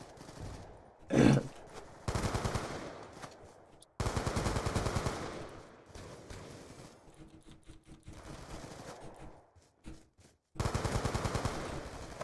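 Rapid automatic gunfire from the video game Call of Duty Black Ops 2 rattles in several loud bursts, broken by short pauses, with one sharp, heavy shot near the start.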